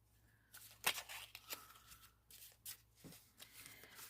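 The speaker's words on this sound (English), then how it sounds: "I'm just going to shuffle the cards up." A deck of playing cards is shuffled up close, producing several short crisp riffling bursts and soft slaps separated by brief pauses in a quiet room.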